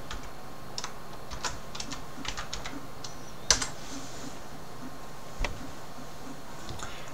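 Typing a new folder name on a computer keyboard: a handful of light, scattered key clicks in short bursts, with one sharper tap midway, close and faint over a quiet room hiss, no voices.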